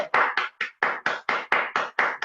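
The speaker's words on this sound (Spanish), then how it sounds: "Un aplauso." Applause at a church vocation celebration, about ten sharp, evenly spaced hand claps, close and distinct, with brief silences between them.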